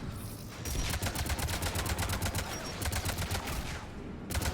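Rockets and weapons fire in a Mass Effect 3 battle, a rapid dense barrage of sharp repeated bursts, loud and close, running continuously for several seconds before cutting off, no talk.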